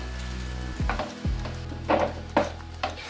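Vegetable paratha stuffed with eggplant and potato frying in ghee in a pan, giving a steady close sizzle broken by several sharper crackling bursts and a couple of low knocks.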